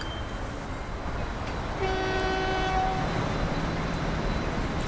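A tram running in the video game Transport Fever, a rolling rail rumble under a brief two-tone horn toot midway, fairly close and steady, with no talking.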